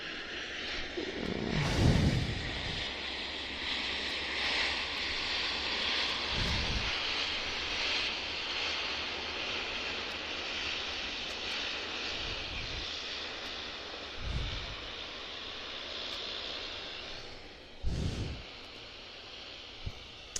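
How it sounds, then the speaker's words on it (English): A Q400 turboprop airliner lands at Vancouver Airport, a steady broad roar of engines and propellers heard from a distance for around twenty seconds, with a few louder bumps and gusts along the way and no talking. "Q400 landing in front of us"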